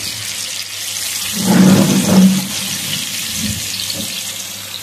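Water draining from boiled spaghetti, a rushing pour that swells for about a second in the middle over a steady background hiss of frying, close by and without talk.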